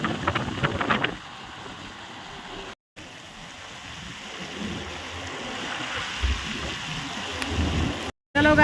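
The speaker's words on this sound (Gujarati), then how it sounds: "વાવાઝોડું વરસાદ નો કરા પડ્યા" Steady rain pouring during a storm with hail, a continuous wash of hiss with a few brief dropouts, no speech heard over it.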